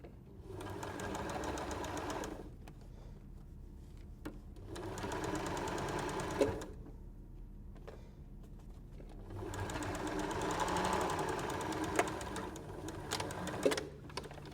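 A sewing machine stitches through thick layers of quilt fabric for an arrowhead star block. It runs in steady mechanical bursts of several seconds with short pauses between them, close and clear, with no talking.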